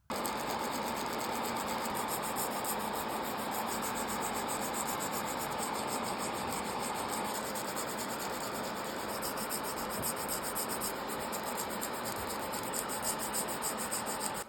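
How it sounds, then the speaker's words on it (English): Steady, continuous rasping of a 180 grit hand file working the edges of acrylic nail tips, close and even throughout with no talking. "I'll start by filing the edges of the nail tips to make them lay flatter and straighter as they tend to curve down"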